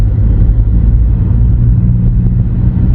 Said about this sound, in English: This car drives actually quite nice.